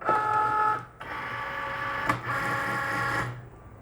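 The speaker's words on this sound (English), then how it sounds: "we're going to place the mat in the machine and then hit the load button" A vinyl cutting machine loading its cutting mat, whirring and buzzing with a steady mechanical motor drone, briefly pausing once and continuing, close and alone without talk.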